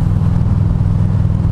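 A motorcycle cruising along on the road, a loud, steady low engine rumble mixed with wind, continuous throughout and with no speech.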